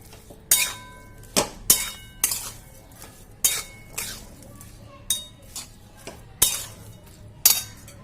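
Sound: mixing sugar into mustard fish vapa ingredients

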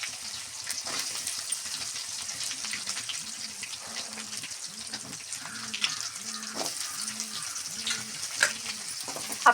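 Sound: sautéing dried chillies, garlic and onions for kuzhambu

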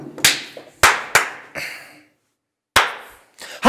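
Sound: hand clap to mark start of recording

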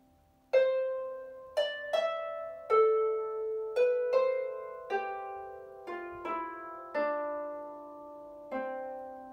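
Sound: last two bars of tune Rory Dall's Port

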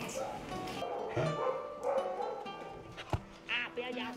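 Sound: dogs barking at a dog rescue

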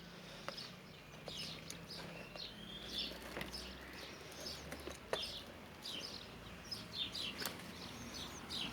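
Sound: birds chirping in a garden

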